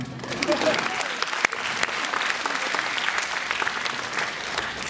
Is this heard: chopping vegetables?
no